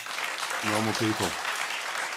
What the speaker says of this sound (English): Small round of involved applause in politics